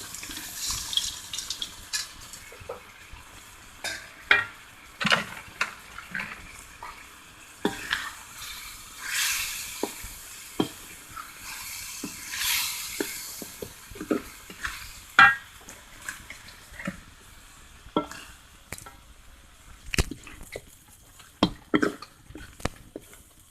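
Fried soy chunks are stirred in a pan for manchurian, with irregular scraping clinks and soft sizzling, repeated knocks scattered throughout.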